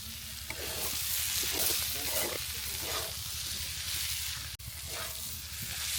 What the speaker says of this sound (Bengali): পেঁয়াজের পাতা এভাবে নেড়ে চেড়ে আর কিছুক্ষণ ভেজে নিব